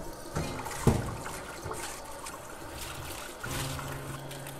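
Water runs and splashes as round cabbage leaves are washed for kimchi, a continuous close trickle with a few louder splashes and handling noises.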